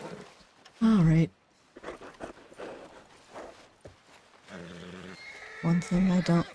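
A horse in the game Red Dead Redemption 2 whinnies loudly twice, a shaky rising-and-falling call, with talking and background noise in between.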